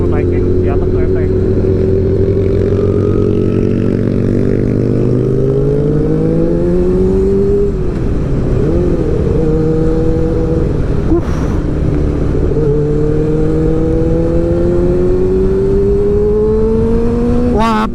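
A first-generation Yamaha R6 sport bike engine revs loudly and continuously on a test ride, pitch sweeping up and down through gear changes with steady roaring harmonics.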